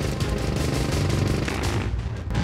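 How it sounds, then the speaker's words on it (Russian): A fighter jet's 20 mm cannon fires in sustained, loud, dense rattling bursts with a heavy low rumble that fades slightly near the end. "затем включил форсаж и дал две короткие очереди из 20-миллиметровой пушки."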